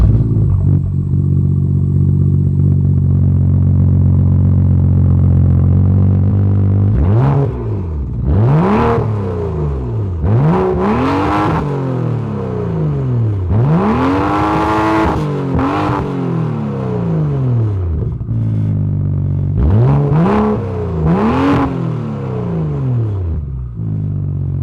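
A BMW 335i M-Sport with an aftermarket exhaust idles steadily, then is revved hard several times, each sharp throttle blip rising and falling, close and loud with no talk.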